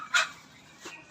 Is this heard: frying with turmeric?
no